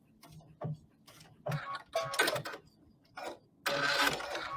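A sewing machine stitching through paper-pieced fabric, bursts of rapid mechanical ticking that start and stop several times, close and fairly quiet, with a longer run at the end.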